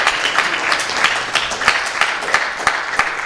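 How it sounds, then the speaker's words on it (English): A Hare Krishna gathering gives another round of applause, with close, loud, lively clapping from many hands throughout, showing distinct sharp claps within the steady wash. "Let's give a good round of applause again."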